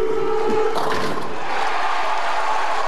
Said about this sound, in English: You heard the Duke, as he really has won over this crowd in Tacoma, and he delivers with a 7th straight strike and a 66-pin lead on Walter Ray.